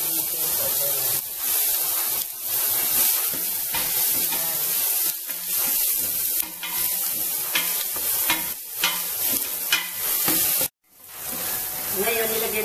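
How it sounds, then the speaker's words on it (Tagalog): Ingredients fry in oil in a pan while cooking goto, a loud, close, crackling sizzle with stirring scrapes throughout, cut off abruptly near the end. "Mag-fry lang yung mga ingredients."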